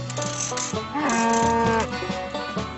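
Cows on a farm give deep, drawn-out moos, one long low call swelling and bending in pitch amid other bovine calls, loud and close, without any talking.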